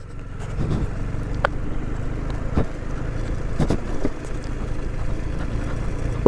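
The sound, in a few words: motorcycle riding off-road over stones in Ladakh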